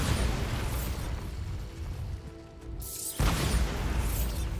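Bombarda spell detonating in the video game Hogwarts Legacy, a loud broad booming blast with rumbling debris that dips briefly and then surges again, dense and sustained, with no talk.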